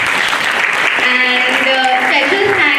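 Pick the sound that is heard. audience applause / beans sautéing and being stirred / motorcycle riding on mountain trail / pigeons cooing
audience applause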